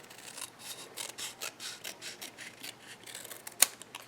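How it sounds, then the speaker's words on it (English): Snips cut through Calypso Coral card stock in a run of short, rhythmic crisp snips, close and fairly quiet, ending in one sharper click. "we're going to take some snips, and we're going to cut this in half"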